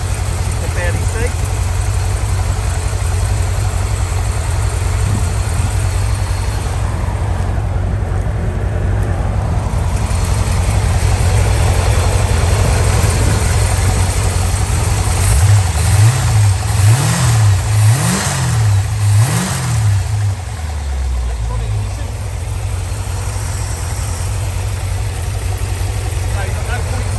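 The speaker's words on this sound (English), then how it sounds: "Here with exhaust. No soft limiter on this car." Exhaust of a 1976 Corvette C3 with a 383ci stroker V8, a steady loud idle rumble, then a burst of repeated sharp revs before settling back to idle.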